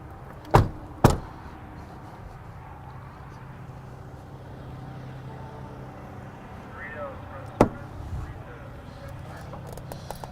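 Climbing into the cab of a Freightliner M2 112 hauler truck: two sharp knocks close together near the start and one more later, likely the door and the climb in, over a low steady hum.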